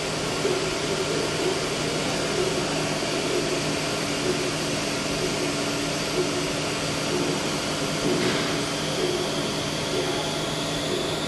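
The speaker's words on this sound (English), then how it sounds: "We're going to turn the spindle back on." A Hurco CNC milling machine spindle runs with a steady, close whirring hum and faint tonal whine, briefly punctuated by a light click, continuous throughout.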